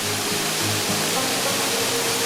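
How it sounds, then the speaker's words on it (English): Several small waterfalls in Nova Scotia pour in a steady, loud rush of broadband water noise that fills the whole moment with no let-up. "A bunch of little waterfalls."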